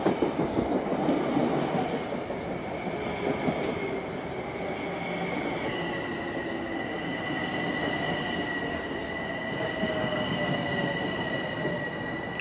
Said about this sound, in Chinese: 它就是普通的通勤列车吧，有点像这个德铁的 S-Bahn， 但是它这个其实是地铁。